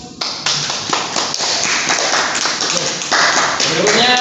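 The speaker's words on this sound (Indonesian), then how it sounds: "Baiklah, kita beri aplaus." Audience clapping at a vocational training session presentation, a dense, steady patter of many hands lasting throughout, fairly loud and close, with a brief pause near the start before it swells again.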